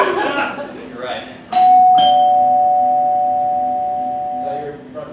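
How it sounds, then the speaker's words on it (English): A front doorbell gives a clear ding-dong with a long ringing tone that slowly fades, right after a person speaks. Talk resumes as it dies away. "Is that your front doorbell?"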